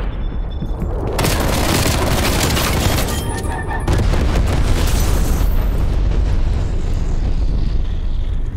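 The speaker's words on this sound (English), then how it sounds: "napalm strike inbound" A napalm strike lands in Call of Duty: Black Ops Cold War, with heavy booming blasts and a roaring rush like a passing aircraft, loud and dense before tailing off into a fading rumble.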